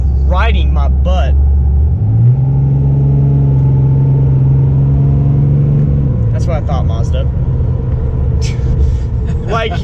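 A 2012 Ram 2500 truck with a 6.7L Cummins diesel drones low while driving, a steady cabin rumble that shifts in tone partway through, heard under someone talking almost continuously.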